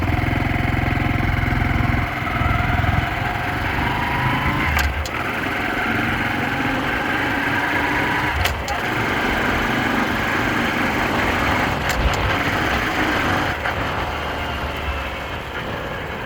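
A Honda Dax 125 motorcycle engine running steadily on a test ride, a close, constant mid-pitched hum with slight variations and a few brief clicks.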